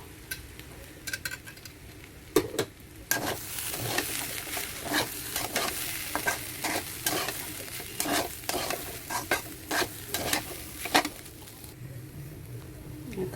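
Ground spices (turmeric, salt, cumin, coriander and chili powder) sizzle in hot oil in a pan for khichuri, with a constant low frying hiss broken by repeated sharp scraping clicks of a spoon stirring.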